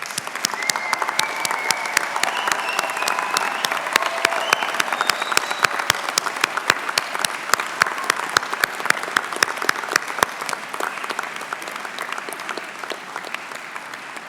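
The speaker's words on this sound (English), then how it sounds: "join me in a round of applause to say thank you to those who have helped you reach" A large audience at a Swinburne graduation ceremony claps steadily, a dense and sustained round of applause that stays even for the whole stretch with no voices on top.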